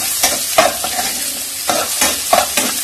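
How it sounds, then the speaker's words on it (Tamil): Onions frying in a pan for white macaroni, a loud, close sizzle broken by repeated bursts of stirring and scraping at an uneven rhythm, with no voices. "இப்போ ஆனியன் நல்லா ஃப்ரை பண்ணுறேன்"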